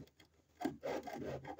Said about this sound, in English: Well, trying to scrape it off.